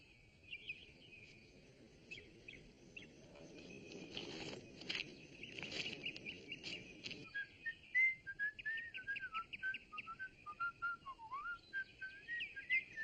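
A person whistles a wandering tune, faint at first amid rustling and clatter, then clearer in short melodic phrases.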